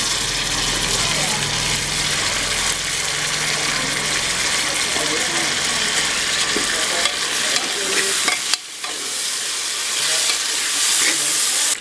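Tomatoes sautéing and being stirred in a pan for vegetable biryani, a loud steady frying sizzle with scraping stirs, briefly dipping near the end before resuming, with a low background hum.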